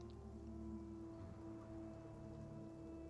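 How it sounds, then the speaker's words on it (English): Steady rain falls throughout, a soft, even patter that stays faint and distant with no voices. "listening to the sound of the rain."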